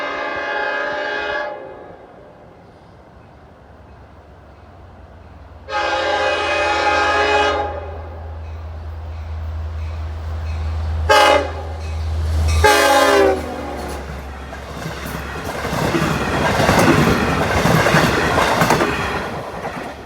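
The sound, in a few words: Long Island Rail Road train passing in Oakdale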